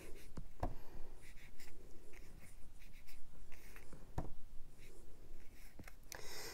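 Ink being rubbed around the edge of a paper piece for card making, giving a steady soft scratchy friction with a few sharper taps, heard close and alone.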